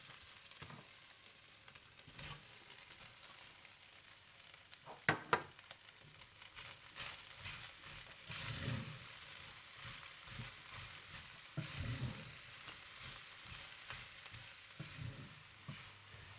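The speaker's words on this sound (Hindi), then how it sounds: "और जब कीमा अच्छा सा भुन जाए तो आप इसमें प्याज डालकर अच्छी तरह से मिला लें।" Minced meat and onions frying quietly in a pan, with a soft steady sizzle broken by occasional scraping stirs and a brief clatter of the spoon, no voices.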